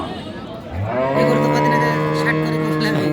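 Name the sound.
cow mooing at a cattle market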